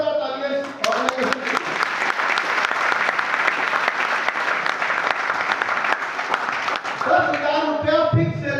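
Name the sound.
audience applause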